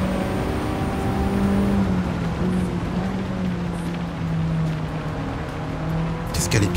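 Engine of an Alpine sports car in the racing game Gran Turismo 7, a steady sustained drone held at a fairly constant pitch throughout, loud and continuous with a faint voice underneath.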